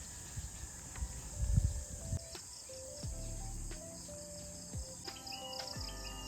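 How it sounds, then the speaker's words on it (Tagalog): Crickets chirp steadily in a quiet forest on Mount Arayat, with faint scattered bird calls and some soft rustling nearby. "maririnig mo lang talaga yung mga ibon, yung kuliglig"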